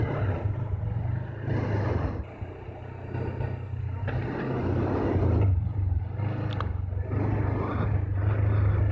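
Low engine rumble of road traffic heard while riding a Suzuki GSX-250R motorcycle, vehicles passing in waves, a constant droning hum underneath.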